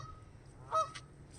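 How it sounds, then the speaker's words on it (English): Geese at a pond in Alaska let out one short burst of honking, fairly close and clear against a low steady background rumble. "See, the geese are even laughing at me."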